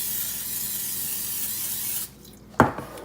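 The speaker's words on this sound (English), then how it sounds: "This is canola oil. So what I do first is I spray it." A steady hiss of canola oil aerosol spray lasts about two seconds, then stops, followed by a brief clunk nearby.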